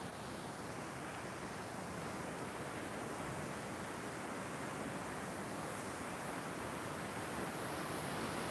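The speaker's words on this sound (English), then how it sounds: "Wow, there is water flowing today." Steady broadband rush of flowing water, like a stream or brook, heard continuously and fairly close on a countryside walk, with no talk.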